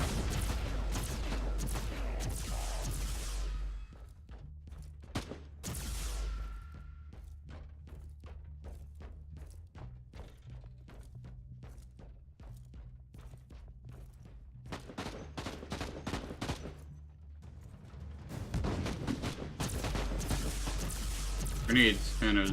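Grenade explosions and gunfire in the video game Warhammer 40,000: Inquisitor Martyr, loud booming blasts at the start and near the end with a rapid series of sharp shots between, under a low steady game hum and occasional talk.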